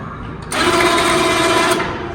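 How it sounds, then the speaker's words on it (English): An electric winch on a powersports vehicle raises a snow plow, starting abruptly with a loud, steady mechanical whine and hum close by. "The winch will raise and lower it. So I'll just raise it up here for you."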